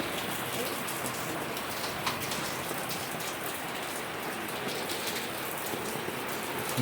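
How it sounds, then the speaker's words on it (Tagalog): Heavy typhoon rain in the Philippines pours down steadily, a dense, even hiss of drops striking a surface with no break. "Lakas ng ulan."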